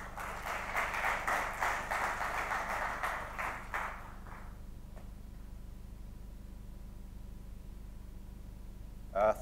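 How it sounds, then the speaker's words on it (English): Audience applause at a conference session on energy funding, a moderate burst of clapping that lasts a few seconds and then dies away into a quiet room hum. "Please give him a warm round of applause."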